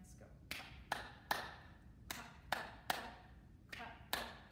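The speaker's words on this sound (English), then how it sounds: "I can make my hands go clap, clap, clap." Hands clapping during a children's rhyme session, eight or so sharp claps in an uneven rhythm with brief pauses between groups, close and distinct over quiet background.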